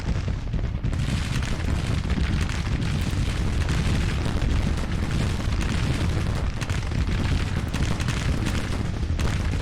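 Continuous rumbling artillery fire from Civil War cannons, including 20-pounders, during a Petersburg battle in Grand Tactician: The Civil War, a dense, steady roar of booms and distant blasts blending together without pause.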